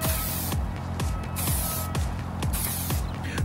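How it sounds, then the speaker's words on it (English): Aerosol spray tan hissing from a can held about eight inches from the face, in a series of short, loud, even bursts about half a second apart, close up with no talk. "hold your aerosol approximately 8 inches away from the face and apply 3 even strokes"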